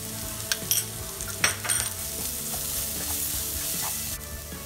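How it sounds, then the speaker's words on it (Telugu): Ginger garlic paste sizzles in a pan over a low flame while being made into capsicum curry. The frying hiss is steady and close, broken by a few sharp clinks of stirring. "స్టవ్ సిమ్లో పెట్టి అల్లం వెల్లుల్లి పేస్ట్ వేస్తున్నానండి."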